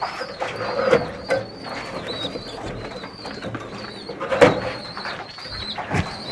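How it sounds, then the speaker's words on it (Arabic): Young, freshly weaned white pigeons held in a hand at a pigeon farm give several close, low cooing calls, with small rustles between them. "هجيب بقى حمام معلش في ايدي بالمرة"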